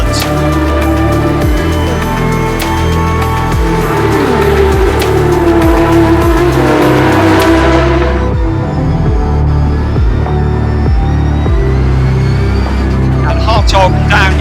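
Race cars brake hard into a chicane: loud, close engines drop through rapid downshifts, then the revs climb again as the cars pull away, all under a steady wash of track noise.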